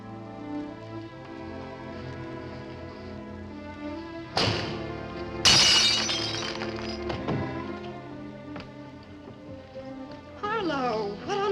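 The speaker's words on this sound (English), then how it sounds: "If you break a window, if you shatter a pane of glass in the dead of night, it makes a noise." A glass window pane shattering at night in a 1955 crime drama film, a sharp crash and cascade of breaking glass over a musical score, followed by lingering tinkling shards.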